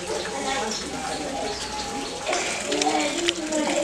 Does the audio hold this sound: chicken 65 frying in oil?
no